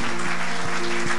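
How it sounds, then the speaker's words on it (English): A congregation at a revival service applauds, the clapping running under a sustained organ or music chord with a few stronger beats. "give him a big applause and a clap"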